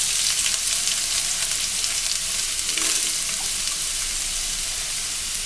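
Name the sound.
vegetables stir-frying in oil in a pan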